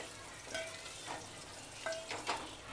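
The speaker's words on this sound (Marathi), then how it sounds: "झाले फोडणी, बेसिकच फोडणी होती" A basic tempering of spices with tomato and turmeric fries quietly in a pan, a soft steady sizzle broken by a few light utensil clinks and stirs.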